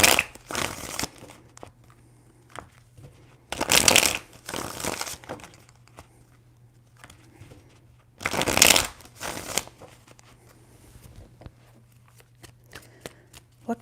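Tarot cards are shuffled by hand in three separate bursts of crisp riffling and flicking, close and clear. Quiet pauses fall between the bursts, and no voices are heard.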